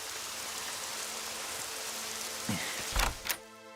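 Rain falls steadily as a soft, even hiss, then a few sharp thuds and knocks break through near the end.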